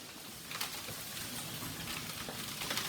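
A hailstorm outside, a steady dense patter of ice striking surfaces, heard faintly and continuously from indoors.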